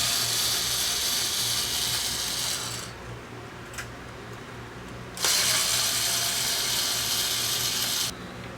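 Screws being backed out of a seized household fan motor's casing by a ratcheting screwdriver, a steady dense clicking that runs close and fairly loud, pauses near the middle for a few seconds, then resumes.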